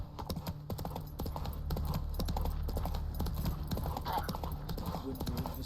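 Horse hooves trot in the video game The Witcher 3: Wild Hunt, a quick, steady clip-clop close by, with a low background drone and a brief voice at the start.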